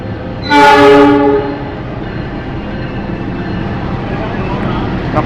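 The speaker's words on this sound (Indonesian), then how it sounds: "Ini Taksakanya masuk jalur 3, nah itu keretanya." Taksaka passenger train pulling into a station platform, its horn blaring loudly for about a second in a harmonic blast, then fading into a steady low rumble of the arriving train with faint station sounds.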